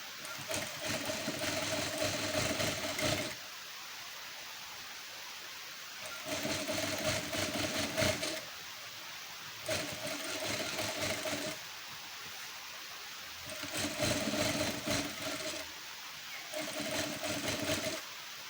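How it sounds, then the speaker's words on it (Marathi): A sewing machine stitches fabric in five bursts of rapid mechanical whirring, close and fairly loud, with short quiet pauses between runs while the cloth is repositioned. "कापड सरकवत शिस्तीत शिस्तीत टीप मारून घ्या"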